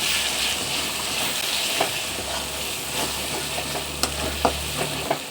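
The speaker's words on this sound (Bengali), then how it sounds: "মশলাটাকে আমি কষিয়ে নেবো।" Spice masala with chili powder and ground coriander sautés in a pan for chicken curry, giving a continuous close sizzle broken by a few sharp clacks from a stirring spoon.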